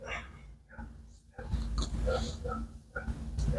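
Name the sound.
dog barking outside a window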